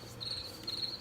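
A white noise sound machine plays its cricket setting: two bright, high chirping trills repeat over a soft, steady hiss.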